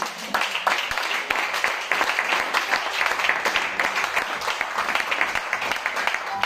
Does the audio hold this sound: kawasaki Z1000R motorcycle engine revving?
no